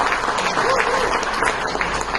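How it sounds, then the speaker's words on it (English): An audience at a book talk claps for a guest author, a short burst of steady crowd applause with some voices mixed in underneath. "Let's give a big round of applause to Rohit."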